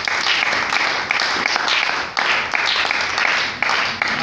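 A church congregation claps and cheers to acclaim the Lord, a dense, sustained wash of many hands with surges of voices, loud and filling the room.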